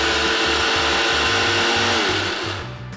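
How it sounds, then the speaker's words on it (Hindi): An electric blender grinds fried crispy onions with a loud, steady motor whir and a rhythmic chopping pulse, then spins down at the end. "आपने देखा झटपट फटाफट हमारे ब्लेंडर ने ये काम हमारा रेडी कर दिया।"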